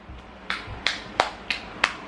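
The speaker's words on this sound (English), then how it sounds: "one last clap session, Sarah" A baby girl claps her hands five times at a steady, even pace, each clap crisp and close, with no talk over them.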